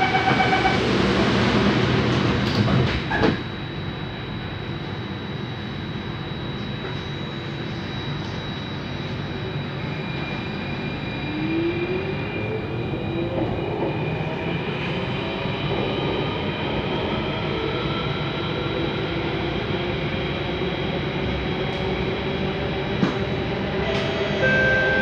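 Steady low rumble of an Alstom Metropolis C830 train in motion on Singapore's Circle Line, continuous and fairly loud, with a faint high whine running throughout.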